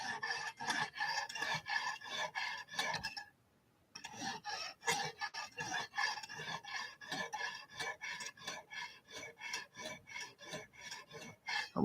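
A knife blade is drawn repeatedly across the stone of a Lansky guided sharpening system. The steady rasping strokes are close and regular, with one brief pause near the start.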